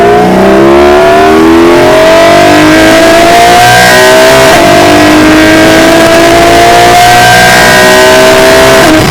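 A car engine fitted with the standard intake air filters revs hard. Rising and falling harmonic sweeps show repeated acceleration, loud and close, with no talking.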